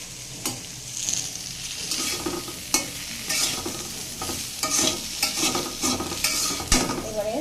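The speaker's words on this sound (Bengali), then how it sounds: "সিমটা এইভাবে করে একটু ভালো করে ভেজে নিতে হবে" Flat beans fry and get stirred in a pan for an aloo dish, a steady sizzle broken by repeated scraping strokes of the spatula, close and fairly loud with no talking.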